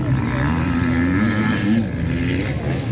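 A motorbike engine drones at the Mill Lane track, a loud, sustained buzzing whine with slight pitch shifts as the rider pushes hard.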